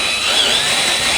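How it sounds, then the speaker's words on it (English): A power drill fitted with a 3/8 bit bores a pilot hole for a rear window install on a 2019 Dodge Ram ProMaster van, giving a loud, steady whine close by that runs unbroken. "we're gonna be using a 3/8 drill bit to make the opening for the jigsaw"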